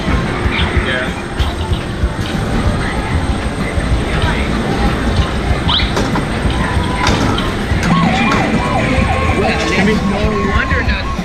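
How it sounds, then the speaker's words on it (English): An arcade game machine's siren wails in a busy amusement arcade, mixed into dense crowd noise and game-machine chatter with voices throughout. "No wonder the siren is blaring."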